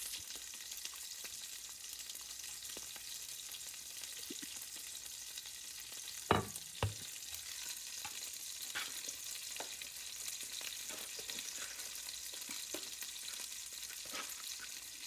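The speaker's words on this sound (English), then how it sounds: "And I got my sausage cooking. That is the noise that you hear in the background." Sausage frying in a pan gives a steady, faint sizzle that runs the whole time, with a couple of sharper clinks or stirring knocks near the middle and no talking.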